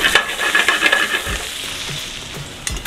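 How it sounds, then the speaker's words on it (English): Spinach and butternut squash sautéing together in a pan, a close crackling sizzle with repeated clinks and scrapes of stirring early on, then settling to a softer steady fry, no voices. "I'm gonna serve this with some sauteed spinach that I'm gonna put in the butternut squash. I'm gonna saute this together."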